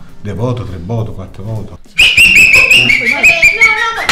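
A person whistling a quick, warbling, bird-like trill, loud and close, right after a stretch of speech.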